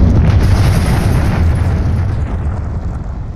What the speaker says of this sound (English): And you see fragmentation going everywhere.